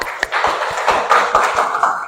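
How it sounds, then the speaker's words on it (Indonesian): A small classroom group applauds a classmate with brief, lively clapping, close and fairly loud, with individual claps popping out of the patter for about two seconds. "Iya, tepuk tangan untuk teman."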